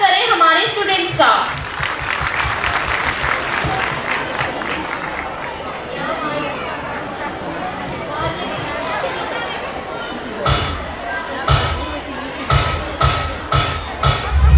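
Audience applause at a school annual function welcoming grade 3 and 4 students: dense, sustained clapping from a crowd, continuous for several seconds, with louder bursts of clapping near the end and some background talk.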